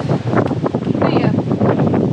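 Strong wind in open mountain wilderness buffets the microphone in loud, rumbling gusts, with a faint voice partly buried beneath the roar.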